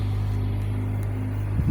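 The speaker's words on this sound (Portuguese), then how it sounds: "O carro funcionando." A Mercedes A45 AMG with a faulty air-conditioning compressor idles steadily nearby, a constant low engine hum with a slight rise at the very end.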